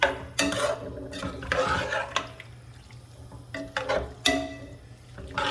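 A spoon scraping and stirring crawfish étouffée in a pot, with wet, thick swishes and sharp clanks against the metal at irregular intervals, close up.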